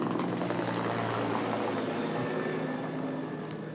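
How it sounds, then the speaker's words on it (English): A firefighting helicopter arrives over the October 1993 Los Angeles wildfires, its loud, steady rotor and engine drone filling the air before easing slightly toward the end. "Comes another helicopter in, and these are also part of the arsenal as well."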